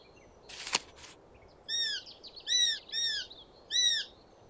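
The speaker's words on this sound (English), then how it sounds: "Common swift." A common swift calls in the Wingspan video game, a series of four high, sharp screeching trills in quick succession, preceded by a brief click, over a quiet background.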